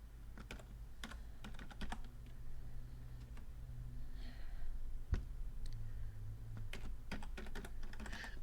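Computer keyboard typing in Word while tab stops are set, scattered key presses at an uneven pace over a low steady background hum.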